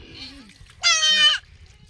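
A goat being washed lets out a single loud, wavering bleat about half a second long, close by, with faint voices and splashing around it.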